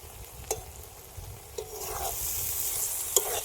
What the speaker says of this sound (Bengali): যে জলটা বেরিয়েছে ভালো করে নেড়ে নেব